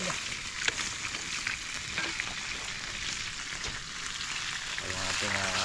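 Tomato sauce with chili sizzles and spatters in a pan after water is added, a bright, steady frying hiss close up, with a voice talking briefly near the end.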